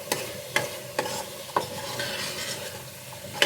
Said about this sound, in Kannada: ಅದೆಲ್ಲ ಹಾಕ್ಬಿಟ್ಟು ಒಂದು ಸಲ ಮಿಕ್ಸ್ ಮಾಡಿ ಚೆನ್ನಾಗಿ.